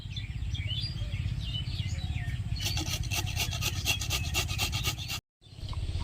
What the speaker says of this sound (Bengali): ফুলকপি আমি ভালো করে গ্রেড করে নিয়েছি